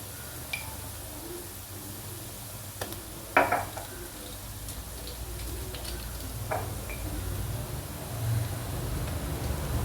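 Kashmiri chili powder is stirred into oil over a low flame for manjali chicken biryani, a faint steady sizzle with occasional spoon scrapes and taps against the pan, quiet and without talk.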